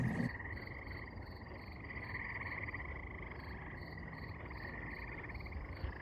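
Frogs croak at night in an Ontario wetland, a steady, continuous chorus, a dense rhythmic trill that carries on without a break over a wet outdoor background.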